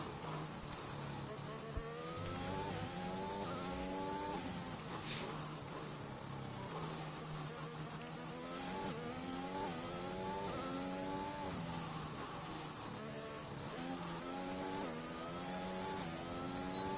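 A racing car engine held in fourth gear on throttle in a racing video game around the Hungary circuit, a steady loud droning whine rising and falling in pitch with corners and shifts, continuous throughout.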